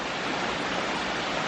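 Small creek tumbling through dense bush over a series of little waterfalls into rock pools, giving a steady, full broadband rush of flowing water close by with no voices.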